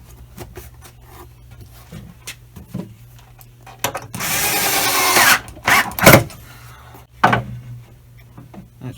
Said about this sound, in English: Put a shim in there and screw this tight.